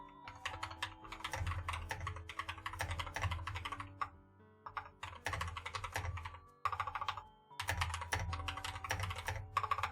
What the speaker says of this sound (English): You can hear the click-clacks on my keyboard to soothe you